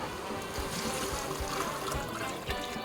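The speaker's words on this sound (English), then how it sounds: "We're going to go ahead and cover it with water." Water poured into a pot of red beans, a continuous close splashing trickle at moderate level with no talking.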